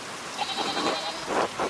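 In the video game Pentiment, a sheep bleats in a few wavering cries over a constant hiss of rain or wind, with no voices.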